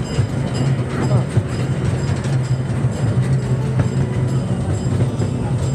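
Train rolling steadily through a railroad park with a continuous low rumble and rail clatter, fairly close and unbroken for the whole stretch.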